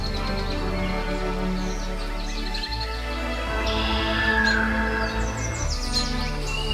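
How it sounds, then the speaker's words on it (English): Birds chirp in a quiet Singapore forest, with faint scattered tweets and a clearer whistled call rising above a steady low hum in the background. "As the birds chirp, it echoes throughout the silent forest"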